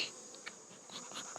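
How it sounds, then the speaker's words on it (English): Honey bees swarming around an open hive during an inspection, a faint continuous buzzing drone with small fluctuations as individual bees pass close. "These bees are relentless today."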